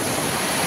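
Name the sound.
river water flowing in flood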